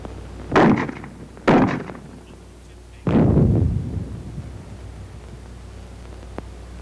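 Fragmentation grenades burst on hard ground during an infantry weapons training demonstration, three heavy booms, the first two close together and the last longer with a rumbling tail.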